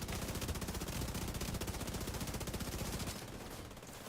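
A long, rapid burst of automatic gunfire from the video game Division 2 hammers along evenly for about three seconds, then cuts off, leaving a quieter background.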